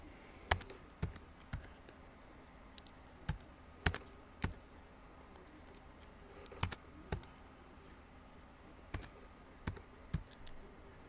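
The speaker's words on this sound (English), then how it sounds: "I have to do it the typing way because of issues going on with my computer" Someone types on a computer keyboard, giving sporadic clicking keystrokes at an uneven pace over a quiet room background, close and fairly soft, with no talking.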